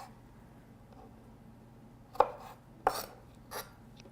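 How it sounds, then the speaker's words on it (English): A knife cuts through a tomato on a board while bruschetta is being prepared, giving three distinct chopping knocks in the latter half of a quiet moment and no speech. "First cut it into slices one way."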